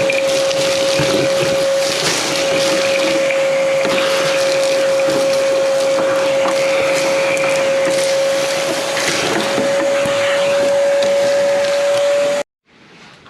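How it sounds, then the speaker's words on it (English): A vacuum cleaner runs steadily and loudly for about twelve seconds with a constant whine, sucking dust out of the dashboard of a 1971 Dodge Challenger, then cuts off abruptly near the end. "Let's just vacuum that out because that's freaking gross."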